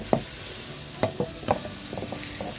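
Stir-frying tamarind chili paste with shrimp paste and dried shrimp, a utensil scraping and tapping the pan in a few sparse strokes over a faint sizzle, close and quiet.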